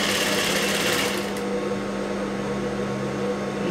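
A sewing machine runs steadily on a blouse, laying loose tacking stitches where piping will go, a continuous close motor whir with even mechanical hum and no voices.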